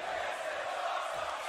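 A video game wrestling crowd in the UKW arena of WWE 2K24 gives off a continuous roar of cheering, a steady wash of noise with no clear breaks.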